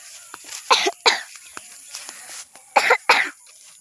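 A person coughs outdoors in a rural spot near trees, in two pairs of short, harsh bursts separated by a quiet pause, fairly close and loud against faint background noise.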